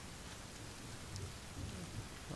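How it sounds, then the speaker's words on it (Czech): Steady rain hisses in the survival video game The Forest, a faint even wash of downpour with a low rumble underneath, continuous across the short stretch with no talk. "A jako z modrý oblohy bude pršet, why not?"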